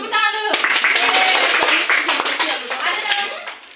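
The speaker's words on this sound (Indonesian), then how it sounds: "Tepuk tangan dulu" A class of schoolchildren claps hands together during a reading lesson, a busy burst of overlapping claps that starts abruptly and carries on steadily, mixed with children's voices talking over it.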